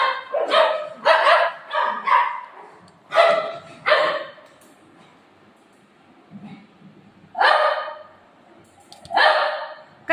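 Golden retriever dogs play-fight with loud, close bursts of barking and yips, which come in quick clusters separated by short quiet gaps.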